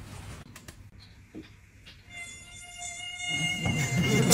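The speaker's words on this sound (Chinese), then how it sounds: "超逼真蚊子" A realistic mosquito sound effect plays as a thin, high, steady whine that fades in and grows louder and nearer over a few seconds, alone with no talking.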